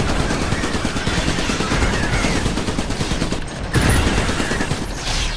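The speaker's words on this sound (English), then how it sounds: "Who's shooting at me?" Gunfire in the Iron Brigade video game, dense continuous rattling bursts mixed with explosions and battle noise, loud and sustained without a pause.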